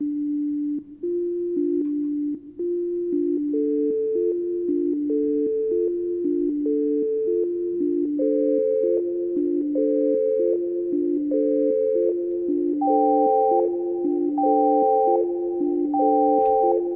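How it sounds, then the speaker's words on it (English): Synthesizer notes gated by a square-wave LFO pulse abruptly on and off in a steady rhythm, more pitches stacking up as the repeating chopped pattern climbs and grows busier. "change the shape here to square so that we go from suddenly having sound to suddenly not having sound"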